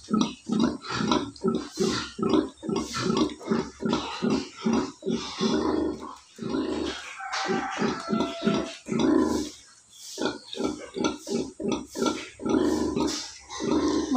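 A mother pig nursing a dozen newborn piglets keeps up a steady rhythmic run of low grunts close by, with occasional higher piglet squeals mixed in.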